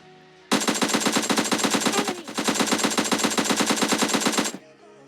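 An AKM rifle fires long rapid bursts in PUBG, about four seconds of loud, evenly spaced automatic shots with a brief break midway, ending abruptly.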